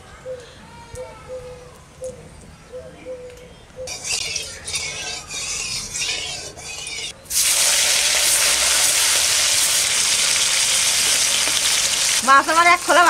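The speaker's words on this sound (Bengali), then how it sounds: "মাছ আমার এক খোলা ভাজা হয়ে গেছে" Hilsa fish fry in hot mustard oil in a kadai. Quieter kitchen sounds and a voice come first, then a loud, dense, continuous sizzle bursts in and fills the rest.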